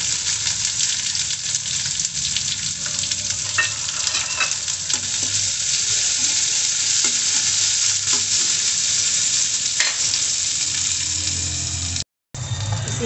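Chilli, cumin and chopped onions fry in a pan with a loud, steady sizzle, stirred continuously for the whole stretch, broken by one very brief silence near the end.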